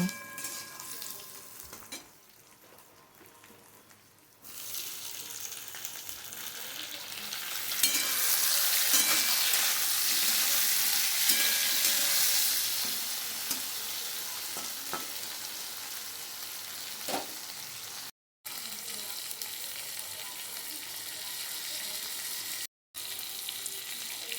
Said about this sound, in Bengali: টমেটো দিয়ে একটু নাড়াচাড়া করেছি